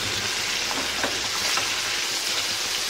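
Chicken pieces fry and sizzle in a pan while being turned over for home-grilled chicken, a steady close hiss with a few soft scraping touches and no talking.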